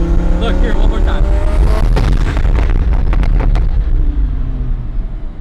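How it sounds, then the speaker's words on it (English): Close up, a twin-turbo Lamborghini Huracan engine climbs in a loud rev, then bursts into a rapid string of exhaust pops and bangs before the roar fades away. "how it is to be next to Cartelfunds Huracan when it pops"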